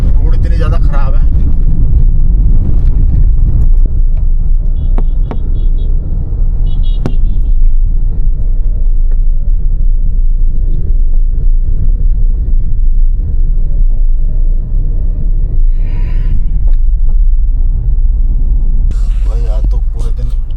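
A car driving fast along a badly broken village road, with a loud, steady engine drone and constant low road rumble, occasional rattles and knocks, and no speech.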